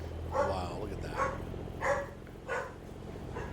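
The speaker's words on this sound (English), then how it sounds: "What are you barking at? She goes crazy every night." A pet dog barks indoors in several short bursts, about four separated barks at moderate loudness over a steady background hum of truck simulator game sound.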